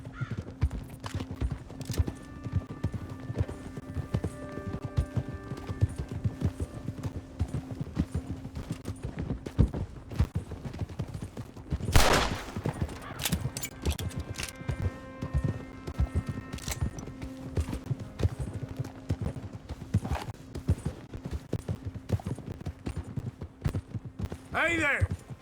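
Steady clip-clop of horse hooves plodding along in Red Dead Redemption II, with a brief whinny and background game music and ambience; a short burst of noise interrupts midway.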